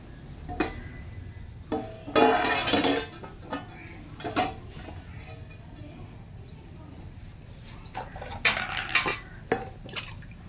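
Clattering of a metal pot and utensils with a few scraping, pouring bursts as rice is tipped into a vegetable biryani pot, over a low kitchen hum.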